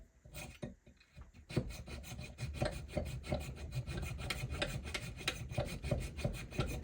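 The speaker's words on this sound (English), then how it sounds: "Now we just basically start sawing away with this." Hand saw cutting a Japanese nakiri knife blank clamped in a vise, a steady rasping stroke rhythm that starts after a brief pause and continues close and fairly loud with no talk.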